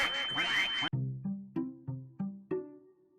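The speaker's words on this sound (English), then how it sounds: "Duck." A cartoonish duck quack sound effect in a ROBLOX game, several short nasal honks repeating in quick succession after a burst of noisy game audio, loud and close.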